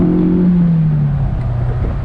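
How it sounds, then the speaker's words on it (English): A Honda S2000 engine revs hard as VTEC engages, a loud, close, buzzing drone that climbs and then settles into a steady higher pitch under heavy road and wind noise inside the car. "I just love the sound of VTEC."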